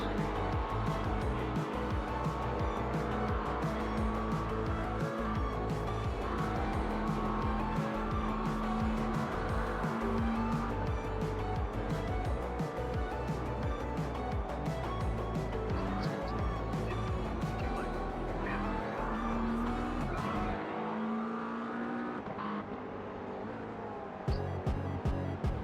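Race car engines drone continuously at Bathurst in the iRacing sim during a 12-hour race, with occasional tire squeal and Porsches close ahead, while voices talk over the constant, loud roar.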